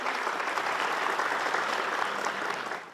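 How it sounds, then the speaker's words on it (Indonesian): Audience applause at a Balinese quiz show with the Pakis Klungkung team, a dense steady clatter of clapping that holds for the whole stretch and fades slightly at the end. "Tepuk tangan dulu dong."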